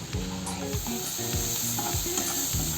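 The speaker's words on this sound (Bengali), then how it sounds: "কিছু সময় ভালো করে মশলাগুলোকে ভেজে নিতে হবে।" Spices frying in a pan hiss loudly and steadily up close while a spatula scrapes and stirs in a regular rhythm of repeated strokes, with no voices.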